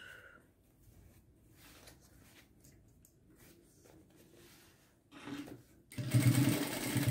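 A sewing machine stitches the edges of a square toiletry bag, with backstitching at the ends; low motor hum runs quietly through, rising to a louder, denser burst of stitching at the end.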